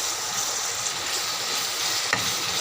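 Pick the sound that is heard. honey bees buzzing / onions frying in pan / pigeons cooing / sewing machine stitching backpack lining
onions frying in pan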